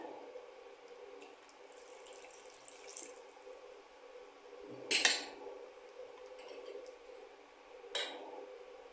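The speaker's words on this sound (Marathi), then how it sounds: "थोडंसं पाणी घालून घेऊया" Water added to a fish curry in a pot, faint running trickles with a couple of sharp metallic clinks of a vessel, quiet and close.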